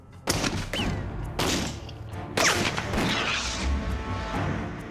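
Three sharp, loud gunshots fired into a chemical explosive catalyst, spaced about a second apart, each a broadband crack followed by a brief rumbling decay, with no explosion.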